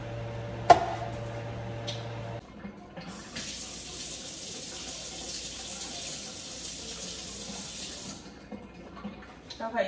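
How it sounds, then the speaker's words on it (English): Running tap water pours steadily to rinse a ribeye steak in a kitchen sink, a close hissing splash after a brief hum and knock, then the flow cuts off. "we're gonna go ahead and rinse our steak"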